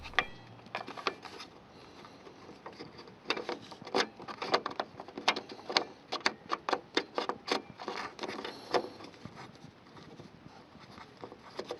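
A Kia Sportage front indicator bulb housing is twisted clockwise into the lens, giving a quick series of close plastic clicks and ratcheting taps, sharp and irregular, with no voices.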